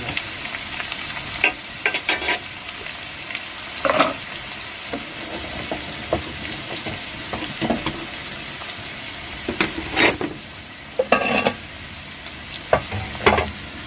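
Chopped onions in a tempering sizzle steadily in a hot pan for an aloo vegetable palya, with repeated scraping stirs and clinks of a spoon standing out close up; no talk.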